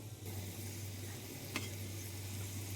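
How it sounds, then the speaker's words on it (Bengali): Chopped carrots and onion pieces hit lentils frying in a pan, giving a soft, steady sizzle over a low hum, with one brief clatter midway. "এখন ফ্রাই করা ডালগুলোর মধ্যে কেটে রাখা গাজর এবং পেঁয়াজ কলির টুকরোগুলো"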